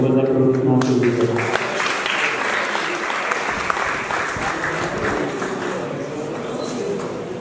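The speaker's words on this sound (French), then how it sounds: "Sous vos applaudissements, s'il vous plaît." Audience applause at a school award ceremony for top baccalaureate graduates in Bargny, a sustained dense clapping from a crowd that starts after a brief voice and continues steadily throughout.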